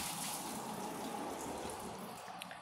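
A Toto Drake toilet bowl rinses with a steady, even rush of flowing water, close and continuous for a few seconds with no talking.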